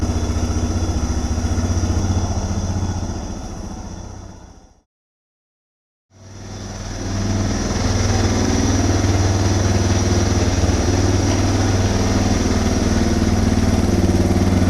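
A Suzuki DR650 motorcycle engine runs loud and close at a steady idle, with a short dropout partway through before the even engine drone resumes.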